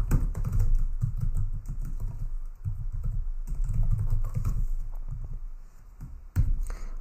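Steady, close keyboard typing while JavaScript code is written on a computer, with dense, continuous key clatter and a few short breaks over a low background hum.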